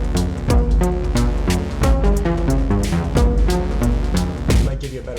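Dense rhythmic pattern from channel 1 of a modular synth sequenced through a quantizer, with quick plucky notes stepping downward in steady repeating cycles, loud and continuous.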